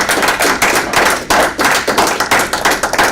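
A small group at a board meeting gives a round of applause, close and loud, the individual claps uneven and slightly pulsing across a few seconds.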